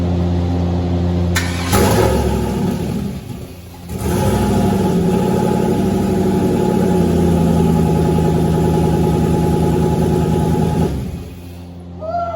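A turbocharged 6-litre engine swapped into a Dodge Grand Caravan cranks and fires on its first start, revs and runs loud and rough for several seconds, dips, then surges again before cutting off.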